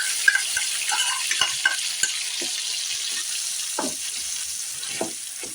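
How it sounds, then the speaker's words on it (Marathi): Onion-tomato puree is tipped into hot cumin in a pan and hisses with a soft, continuous sizzle, broken by a few scattered stirring knocks and splashes, with no voices. "जिरे ऑलरेडी आपले गरम झालेले आहेत आपण ही जी कांदा आणि टोमॅटोची प्युरी बनवली घेतलेली ती टाकणार आहोत"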